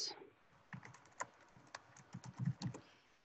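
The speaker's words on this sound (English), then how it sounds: "I'll type it into the chat." A computer keyboard clatters under quick typing during an online history class, a dozen or so light, close keystrokes in an uneven burst, growing slightly heavier toward the end, with no talking.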